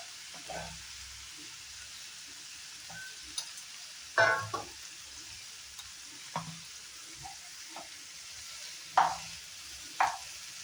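Onion and tomato frying, a faint low sizzle beneath occasional sharp stirring scrapes and clinks at irregular intervals.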